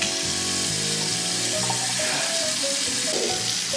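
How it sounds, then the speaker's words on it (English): Water runs and splashes in a sink in a video game, a steady hissing rush with a few brief tonal glints, close and alone. "Maybe I need a splash of water on my face."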